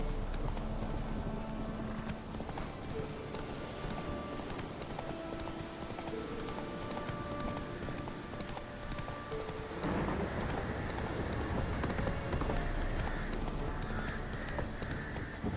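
Roach, a horse in the video game The Witcher 3, gallops in a steady, quick clip-clop rhythm, close and clear, with faint game music tones underneath.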